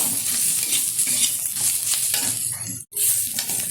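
Mutton with meat masala, turmeric and green chillies is stirred in hot oil, giving a loud close sizzle with rhythmic scraping strokes and a brief break near the end.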